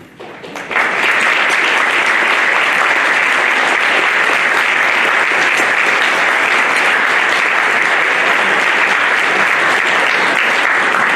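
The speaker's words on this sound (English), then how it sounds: "They can have a round of applause as well." A room of guests at a 2019 AP awards breakfast applauds AP teachers, steady and loud clapping that starts abruptly and continues evenly throughout, with no talking.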